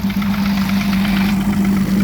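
A 2016 Evinrude E-TEC 150hp H.O. and a 2017 Yamaha 9.9hp outboard run together in a close, loud, steady drone. Their deep idling hum carries a rough, buzzing vibration and holds even throughout.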